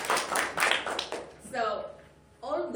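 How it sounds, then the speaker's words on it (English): Attendees at a 2017 meeting break into a short burst of clapping, which fades as a voice starts talking. "let's give a round of applause for our meeting in 2017"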